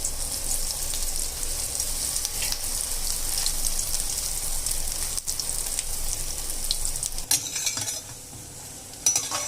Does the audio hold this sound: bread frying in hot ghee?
yes